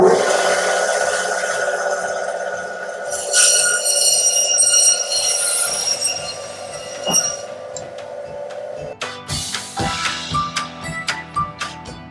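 A bandsaw slicing through a six-week dry-aged beef rump, a loud continuous mechanical whine and rattle with shifting tone as the blade bites, ending in a clattering, uneven patch as the cut finishes.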